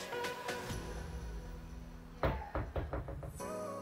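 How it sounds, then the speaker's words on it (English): A soft-close wardrobe door with an aluminium frame glides shut, ending in a muffled knock and a few soft settling thuds, close by in a quiet room. "The doors are also soft close"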